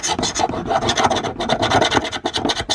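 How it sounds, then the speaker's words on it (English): A metal file rasps steadily across a shredder blade, cleaning off muck before sharpening; close, continuous scraping strokes with no talk. "So we'll just clean it first, look, with the file."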